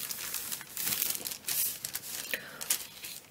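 Paper breakfast bags being folded and creased into a Christmas star craft, with close, continuous crinkling and crackling, sharper creasing bursts around the middle and end, no talking.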